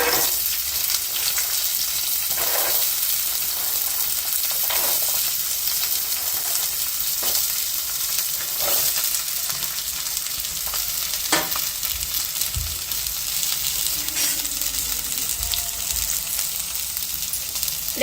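Black-eyed peas fry in a hot pan with oil, giving a steady, loud sizzle throughout, broken by periodic scraping strokes of a spoon stirring them.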